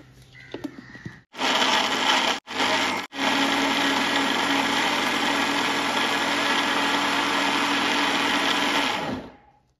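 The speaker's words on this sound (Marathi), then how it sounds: "आपण आता हे सर्व मिश्रण मिक्सरच्या भांड्यामध्ये बारीक करून ह्याची पेस्ट तयार करणार आहोत" A mixer grinder blends ash gourd and sago into a paste for papad, giving a loud, steady whirring drone that starts after a few brief bursts and then runs on unbroken.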